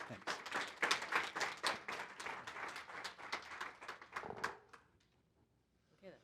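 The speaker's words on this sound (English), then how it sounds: "let's give him another round of applause" Audience clapping at a planetarium conference paper session, distinct claps from a modest crowd in a rhythmic burst that stops abruptly after about four seconds, leaving near silence before a faint sound at the end.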